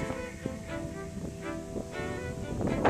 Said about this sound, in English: The bad thing is I've got this serious wind.